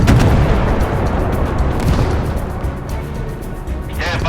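Warship guns firing in the naval video game Force of Warships, loud booming artillery rumbling continuously with overlapping blasts, close and heavy, with no voices.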